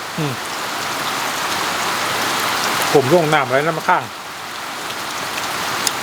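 Steady rain falling on surfaces outdoors, a loud continuous patter and hiss throughout, with a person's voice talking briefly near the middle over the rain.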